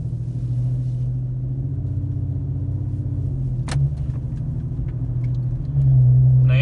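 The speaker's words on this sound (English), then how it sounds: "this segment is just to hear what the cabin noise sounds like" Steady low cabin rumble inside an Infiniti Q50S driving in drive mode with the automatic shifting, loud and continuous, rising slightly near the end with a faint brief click partway through.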